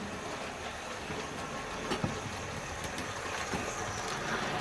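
A Bachmann S&D 7F model steam locomotive runs along its track with a steady, faint mechanical whir and a couple of soft clicks, close by and without talk.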